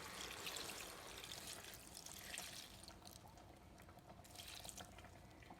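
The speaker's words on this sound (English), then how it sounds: "I'm going to add some water to it" Water poured steadily into a cooking pan on a stove, a continuous faint trickling and splashing stream with no voices over it.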